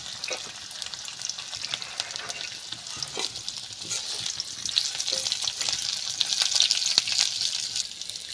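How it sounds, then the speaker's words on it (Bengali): Chopped green chilli and carrot, with crushed ginger, fry in hot oil, a loud, steady, close-up hiss and crackle that swells toward the end, with occasional stirring clatter. "এই দেখুন কাঁচা লঙ্কা কুচিটা আমি এই তেলের উপর ছেড়ে দিলাম"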